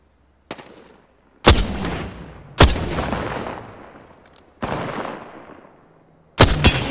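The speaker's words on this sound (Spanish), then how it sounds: "Disparando." Gunfire in the Apex Legends battle royale game: five sharp, loud shots spaced a second or so apart, each trailing off in a long echoing decay, with no talk over them.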